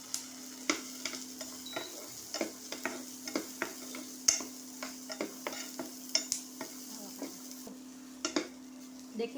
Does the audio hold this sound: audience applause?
no